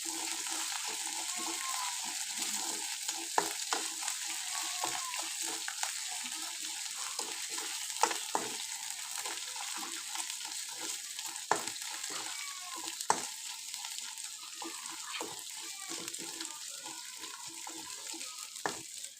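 Onions browning in hot oil in a pan hiss in a steady, quiet sizzle, while a spatula stirs them with occasional sharp scrapes and taps against the pan.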